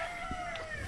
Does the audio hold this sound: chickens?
yes